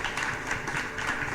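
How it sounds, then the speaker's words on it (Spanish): A church congregation applauding on a Sunday morning, steady dense clapping from many hands, close and fairly loud throughout. "dele fuerte ese aplauso al Señor en esta mañana"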